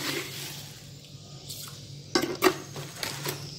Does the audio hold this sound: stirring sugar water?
yes